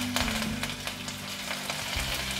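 Cumin seeds and curry leaves sizzle in hot oil for tempering a Punjabi-style kadhi pakora, a steady close crackling fry with small pops throughout and no talking.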